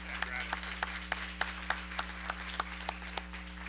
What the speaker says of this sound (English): we owe him all a deep applause and gratitude